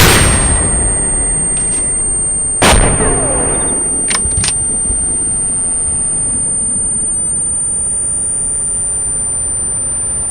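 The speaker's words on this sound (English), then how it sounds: "I'll pick up a bunch of different rounds and fire away" Anti-tank launcher rounds fire in Arma, the game: a loud blast opens, a second sharp boom follows a few seconds later, then two quick cracks, with a thin electronic tone running through and a long fading tail.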